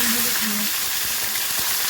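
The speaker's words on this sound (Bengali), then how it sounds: "তেলটা গরম হয়ে গেছে। এরপর মাছগুলি ছেড়ে দেবো।" Hot mustard oil sizzles steadily as tilapia fries, a close, continuous crackling hiss with a low hum in the first half and a few soft clicks later, no talking.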